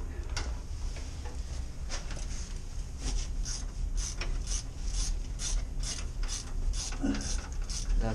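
A socket wrench on a long extension ratchets steadily on the mounting bolts of a submersible sewage ejector pump during replacement, with rapid clicking that runs continuously throughout at close range.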